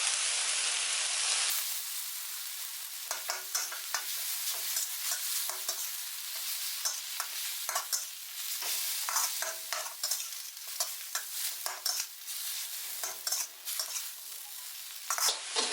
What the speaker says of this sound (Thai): เราก็ผัดไป